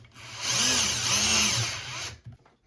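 A power drill drives screws to fasten a bathroom cabinet handle, a close, loud, steady whine lasting about two seconds before it stops with a few faint clicks.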